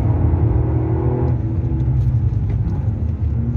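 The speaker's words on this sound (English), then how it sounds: "Second gear gives us phenomenal control, full throttle. It just grips and goes." A Toyota GR Yaris 1.6T GR-Four rally car is driven in second gear at full throttle on a rally test, producing a loud, continuous low engine rumble that stays close and steady throughout.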